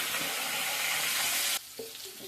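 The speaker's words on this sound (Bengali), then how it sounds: "এবারে আমি ফুলকপিগুলোকে দিয়ে দিব। ভালো মতো ভেজে নেব।" Cauliflower and potatoes frying in hot oil with turmeric for a Bengali cauliflower kalia give a steady, loud sizzle that cuts off abruptly partway, leaving quieter scattered crackles.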